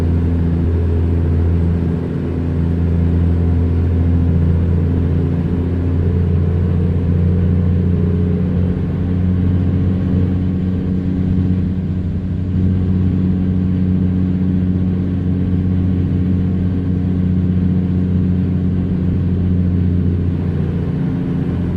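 Loud, steady engine drone and road rumble from an overloaded old-school 150 hp Peterbilt truck hauling 57,000 lbs, running continuously with no talking.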